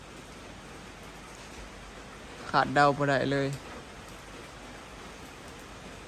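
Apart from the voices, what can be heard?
heavy rain falling at night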